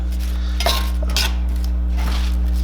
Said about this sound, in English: just mix it up a little bit, make sure it gets coated on the avocado oil